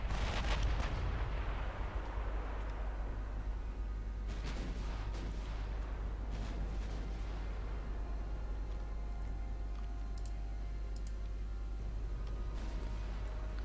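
Warship main guns firing salvos in the naval game Ultimate Admiral Dreadnoughts, a loud heavy boom at the start rolling off into a long rumbling tail, with fainter distant gunfire after it over a constant low engine drone.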